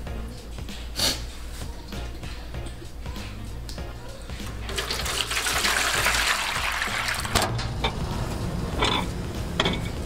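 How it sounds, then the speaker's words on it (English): Brine is poured off a Cornish game hen, a liquid gush that swells into a louder splashing pour midway and then trails off, with someone talking over it. "I'm gonna drain off the brine."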